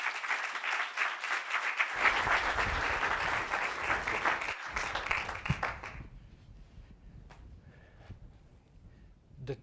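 An audience breaks into loud, sustained applause to welcome lecturer PG Forrest to a lecture; the clapping swells after a quiet lead-in, holds for several seconds, then thins out to scattered claps.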